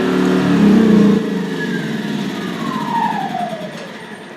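A Yamaha EF2000iS generator runs loud and close, then its engine note drops abruptly and winds down with a falling whine toward a stall, with no speech.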